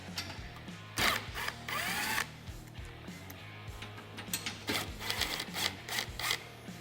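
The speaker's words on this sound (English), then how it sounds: "remove the two bolts securing the grab bar to the frame of the machine" A power tool whirs in short bursts, removing the bolts that hold the grab bar to a Can-Am Commander frame, with clicks and clanks of hardware between the runs, loud and close.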